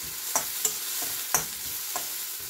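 Onions and chillies fry in a pan with a soft, steady crackle, while a few sharper clicks of a utensil against the pan break through at irregular moments; no voices are heard.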